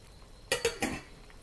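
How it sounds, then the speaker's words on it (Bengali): Pieces of hilsa fish drop into a pan of simmering curry for a Bengali fish curry with eggplant, three quick soft plops and splashes close up, then a quiet bubbling background. "তারপর আমি দিয়ে দিচ্ছি ইলিশ মাছগুলো"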